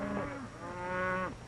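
Cattle moo on a ranch while a hot iron is used on them, two long, close, drawn-out lowing calls, the second rising and sustained, with no talk over them.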